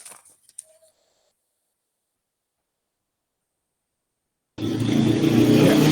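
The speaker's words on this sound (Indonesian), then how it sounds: "Ada motor lewat sebentar, jadi mungkin agak berisik." A motorbike passes outside a house beside Mandalika. After near silence, a loud, steady broadband roar cuts in abruptly and holds to the end.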